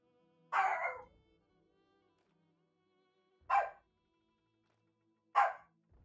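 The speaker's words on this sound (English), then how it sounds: "I don't know what the fuck they're barking at." Dogs indoors let out three separate sharp barks spaced a few seconds apart, moderately close, with near silence in between.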